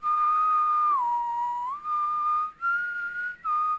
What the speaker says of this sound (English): That's whistling. That's gotta be a damn whistle.